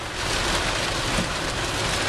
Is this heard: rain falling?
yes